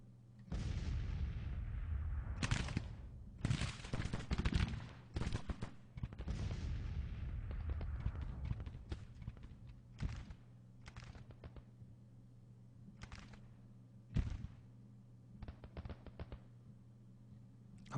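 Long-range musket volleys and artillery fire from Civil War skirmishers in the strategy game Grand Tactician: The Civil War, a steady crackle of overlapping shots with heavier booms, continuous at first and then thinning into scattered reports.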